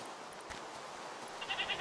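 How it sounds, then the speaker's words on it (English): A goat bleats in Minecraft, a short series of faint nasal cries near the end, rising over a soft steady background of game ambience and rain. "Goat!"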